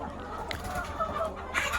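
Chickens clucking on a poultry farm, a soft steady murmur of hens with a few louder clucks, faint beneath someone talking about feed.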